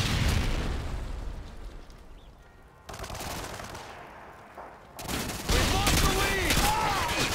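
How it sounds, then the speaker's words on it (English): Stun grenade going off in Modern Warfare 2 multiplayer, a sudden loud bang cutting into surrounding gunfire and explosions, with chaotic bursts of shooting after it. "Tossing stun grenade"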